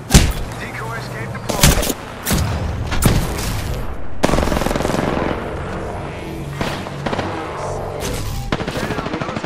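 Gunfire in Apex Legends, rapid bursts of automatic shots mixed with sharp single cracks, loud and close, continuing in irregular volleys throughout with brief voices in the background.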